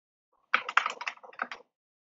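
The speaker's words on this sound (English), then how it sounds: "I am going to type Thunderbird over here and hit enter" Close, crisp clatter of a computer keyboard as a command is typed: a quick burst of about a dozen keystrokes lasting roughly a second, with quiet before and after.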